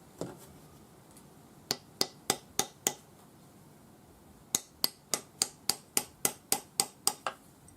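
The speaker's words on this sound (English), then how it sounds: "round it up on the ring mandrel using your rawhide hammer" Two bursts of sharp, evenly spaced rawhide hammer taps on a metal ring on a ring mandrel, first about six quick strikes, then a pause and a longer run of about ten, close and crisp.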